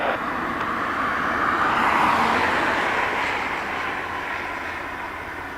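A C-130 Hercules turboprop departing Dublin Airport gives a steady, broad roar that swells toward the middle and then slowly eases off, heard from a distance with no talk.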